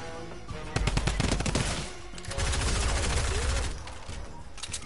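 A drum gun fires in rapid automatic bursts during a duos match in a video game: loud, dense rattling volleys with a short pause between them, close and dominant over the background.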